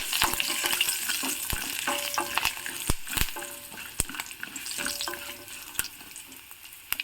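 Peanuts and curry leaves sizzle and crackle in hot tempering oil on a stove for a traditional rice dish, a steady close frying hiss punctuated by sharp pops and spatters, with no talking.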